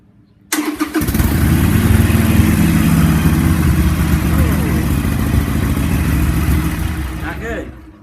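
A motorcycle engine fitted with a relocation kit fires up after a brief quiet moment and then runs steadily in neutral, loud and close, with a faint voice near the end as it winds down.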